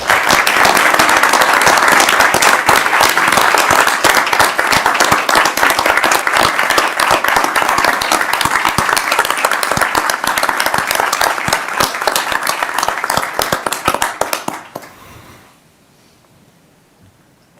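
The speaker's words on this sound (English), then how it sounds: "Ms. Farmer, please rise and applaud her as I do." Meeting audience at a Commonwealth Transportation Board session rises and applauds, a loud, dense, sustained burst of clapping that runs steadily before tapering off and stopping abruptly near the end.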